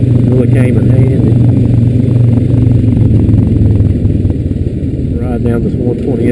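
A Honda Rancher 420AT ATV engine drones loudly and steadily while riding along a trail, a low rumbling hum with some clatter, close and continuous throughout.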